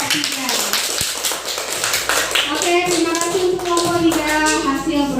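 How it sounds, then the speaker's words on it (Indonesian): Students in a classroom applaud group 3 with dense, fairly close clapping that carries on steadily throughout, with voices talking over the applause. "beri tepuk tangan untuk kelompok 3"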